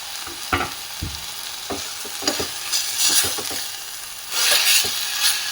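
Chopped fenugreek leaves are stirred into a sizzling pan of fenugreek-leaf sambar, giving a soft steady sizzle with scraping and clinking spoon strokes at close range and no talking.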